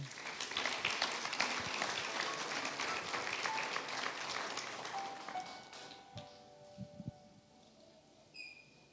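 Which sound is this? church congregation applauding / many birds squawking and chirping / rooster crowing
church congregation applauding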